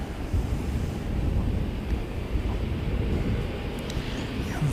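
Strong wind buffets the microphone at an airport plane spotting site in New Zealand, a continuous loud low roar with gusts that swell and ease throughout, no voices over it.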